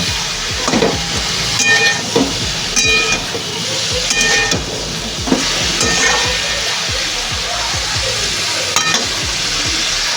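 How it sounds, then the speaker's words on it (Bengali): Raw banana frying in a pan with salt and turmeric sizzles steadily at close range, with repeated scraping and stirring knocks from a spatula. "কাঁচকলা ভাজাটা হয়ে গেছে, নামিয়ে নিয়েছি"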